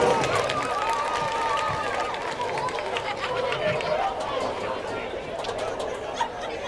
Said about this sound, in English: let's give a round of applause for all of our homecoming